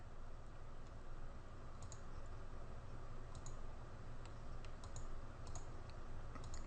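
Rapid, steady typing on a computer keyboard, a continuous run of light clicks over a constant background hum, with no talk.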